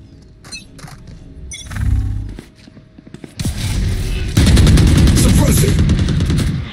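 Bursts of automatic gunfire from a Valorant match, starting as scattered shots and building into a loud, sustained barrage in the second half, with game sounds layered throughout.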